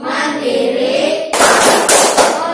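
A class of Indonesian students breaks into a loud burst of rhythmic patterned clapping right after a teacher's voice, several sharp accented claps in quick sequence.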